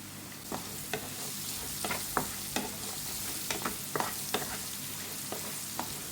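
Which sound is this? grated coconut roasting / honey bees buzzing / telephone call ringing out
grated coconut roasting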